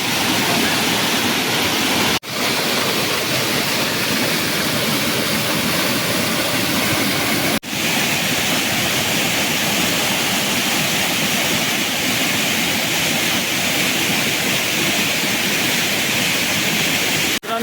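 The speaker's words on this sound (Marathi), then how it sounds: "तुम्ही पाहू शकता हा धबधबा किती मोठा आहे" A large waterfall in Konkan roars as a loud, continuous broadband rush of falling water, close and unbroken apart from two momentary dips.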